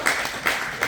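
Brief burst of audience applause in a seminar-style gathering, steady broadband clapping from a small crowd filling the whole second without talk.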